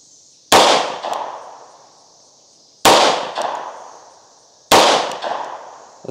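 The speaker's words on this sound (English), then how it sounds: "Maybe I'm shooting too high. Or too low still. I think I'm shooting too low." A Tisas B9R double stack 1911 pistol fires at targets outdoors: three loud, sharp shots about two seconds apart, each followed by a quick echo that dies away.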